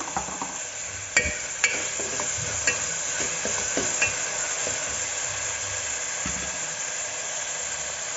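Tomatoes sauté with salt in a pan for a mixed vegetable curry: a steady close sizzle runs throughout, with a few sharp utensil clinks and scraping from stirring.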